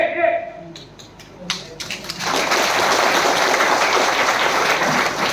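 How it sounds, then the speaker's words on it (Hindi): A crowd claps loudly at a political rally in Tripura, the applause swelling into a dense, sustained roar after a few scattered claps and a voice speaking at the start. "लेकिन आप लोग ताली मार रहे हैं यहां में"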